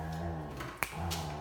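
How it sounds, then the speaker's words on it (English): Dogs fight in the background with sustained whining and growling, interrupted by one brief sharp snap midway. "So, dogs are fighting in the background."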